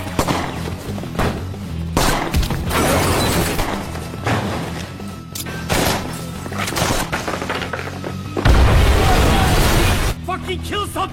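Repeated gunshots and crashes in a chaotic film gunfight scene, with loud bursts and impacts mixed among shouted voices.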